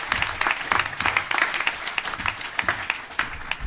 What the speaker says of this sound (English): So let's give a round of applause to our bronze sponsors.